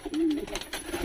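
Pigeons coo inside a backyard coop, a close, soft, throaty coo rising and falling once or twice with light rustling around it.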